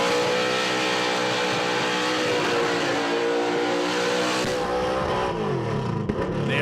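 A car doing a burnout at the Red Centre Nats, heard on board, its engine roaring at high revs as worn tyres squeal continuously, loud and close throughout.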